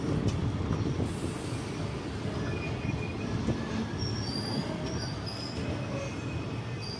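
A passenger train on the Mailani–Pilibhit line pulls away from a small station, a steady close rumble of rolling wheels with faint metallic squeals and rail clatter throughout, no voices.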